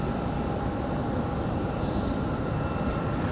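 Breeze Airways Airbus A220 departing Raleigh-Durham International Airport, a steady broad jet roar heard from a distance with no speech.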